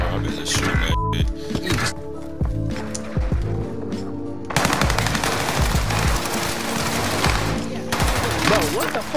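Gunfire in the Warzone video game, rapid automatic bursts and single shots layered over a busy in-game soundscape, loud and close, with players talking over it.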